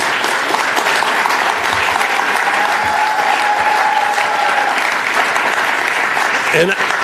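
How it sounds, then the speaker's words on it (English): Steady, dense audience applause fills a presentation and panel discussion at NJIT as Dr. Denise Anderson is welcomed, continuing at an even level throughout with some talk underneath. "give a round of applause for this amazing woman, Dr. Denise Anderson"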